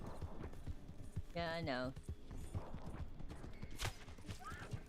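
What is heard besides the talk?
horse hooves clip-clopping in video game Red Dead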